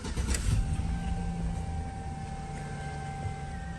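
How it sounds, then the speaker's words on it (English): A 2006 Chevy 1500 pickup engine with a misfire starts with a brief burst, then settles into a steady idling hum. "we're going to start the truck up"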